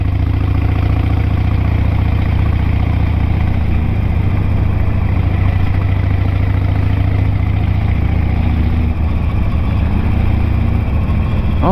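A loud Harley-Davidson Sportster 883 engine runs steadily up close, a constant low rumble with a slight shift in tone near the end.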